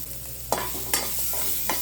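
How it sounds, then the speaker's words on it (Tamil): Chopped small onions and dried red chillies sauté in a pan, with a steady soft sizzle broken by a few sharp spatula stirs and scrapes. No voices are heard. "அந்த வெங்காயம் வந்து நல்லா வதங்கணும்."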